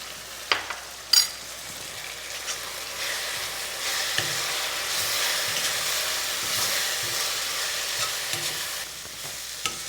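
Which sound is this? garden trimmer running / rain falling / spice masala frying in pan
spice masala frying in pan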